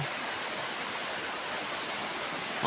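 A river at Estrella in Narra, Palawan rushes in a steady, broad hiss of flowing water, close and continuous, with no voices.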